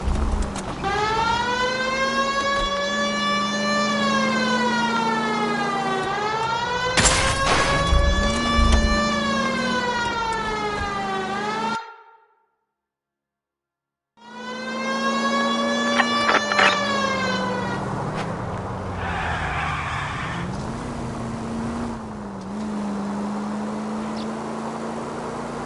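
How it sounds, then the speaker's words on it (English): A police car siren wails in the video game L.A. Noire, loud and close with rising and falling sweeps, broken by a brief silence midway before resuming over engine noise. "May as well hit the siren."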